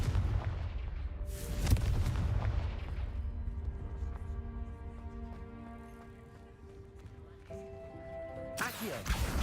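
Confringo fire spell cast in the Hogwarts Legacy video game, with sharp blasts near 1.6 seconds and again at the end over a dense, rumbling game soundscape with tonal music.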